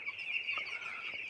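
Eleven-day-old chicks on a farm peep in a steady, high-pitched chorus, a dense continuous chirping from many birds close by with no talk.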